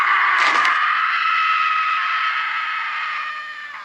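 A long, sustained scream from a horror film, loud and unbroken for nearly four seconds, with a brief harsh burst near the start before the cry holds steady and fades at the end.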